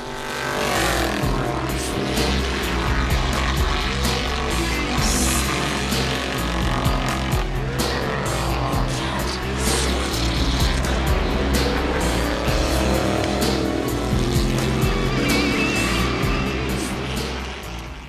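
Stock car engines roar loud and continuous at a racetrack, with rising and falling revs as cars pass by without letup.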